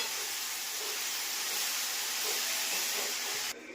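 Tempering spices sizzle in hot oil in a pan while cooking greens bhaji, a loud, continuous broadband hiss that stays even throughout and cuts off abruptly right at the end.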